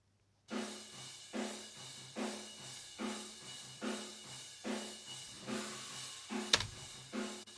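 A metal drum kit picked up by room mics aimed at the back wall of a tiled toilet, giving about a dozen evenly spaced booming hits, each with a long reverberant wash and a sharp crack near the end.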